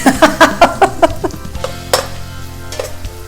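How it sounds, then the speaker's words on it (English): Minced shallot and garlic hit hot melted fat in a pan, giving a crackling sizzle punctuated by several rhythmic stirring scrapes at first, then settling into a steady, close frying hiss with a few utensil clinks. "In goes the minced shallot and the garlic."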